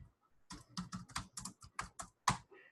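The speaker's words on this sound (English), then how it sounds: "And then down here, you can type in the message." Typing a message on a keyboard: a quick run of about ten distinct, crisp key taps in irregular rhythm, close and quiet with no talk.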